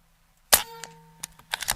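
A Seneca Eagle Claw .25 caliber airgun fires at a target, a sharp loud crack with a ringing metallic tone, followed by a couple of lighter clanks and taps close by.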